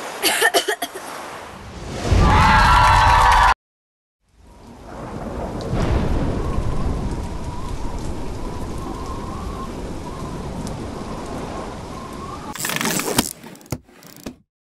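A thunderstorm with steady rain and rumbling thunder, cut into separate stretches with a brief silent gap and sharp bursts near the end.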